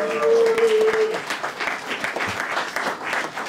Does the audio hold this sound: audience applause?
yes